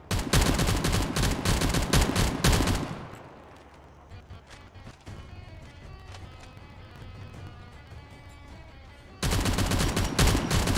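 Rapid bursts of gunfire in the video game Factorio with Space Exploration and Krastorio 2 mods: a loud dense volley, a quieter stretch of faint scattered shots, then another loud burst at the end.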